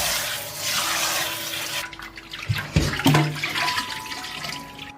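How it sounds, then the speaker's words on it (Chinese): Pig intestines rubbed clean by hand with starch and salt under running water: a steady tap stream, then wet squelching, splashes and sloshing as the water is worked through. "再加入淀粉，还有盐，里里外外给它抓洗几遍"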